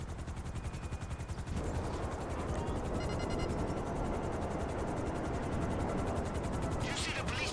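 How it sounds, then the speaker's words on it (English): A police helicopter's rotor chops steadily overhead in GTA Online, a continuous pulsing drone that grows louder and persists throughout, with talk faintly underneath. "You see the police chopper up there?"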